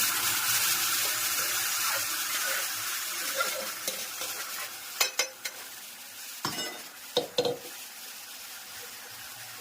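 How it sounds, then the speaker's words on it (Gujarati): A spice tempering (vaghar) with chilli, ginger and boiled fenugreek sizzles in a pan, a dense steady hiss broken by several sharp clinks and scraping stirs toward the end, heard up close with no speech. "સરસ મજાનો વઘાર થઈ ગયો છે."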